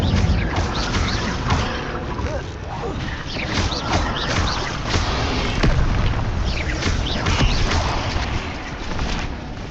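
The Incendio fire spell being cast in Hogwarts Legacy brings dense, continuous crashing, booming and clattering effects that stay loud throughout.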